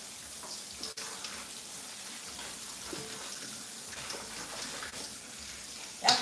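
Red lettuce rinsed under a running kitchen tap, a steady broadband rush of water held for several seconds, close and fairly loud, with a brief louder splash near the end.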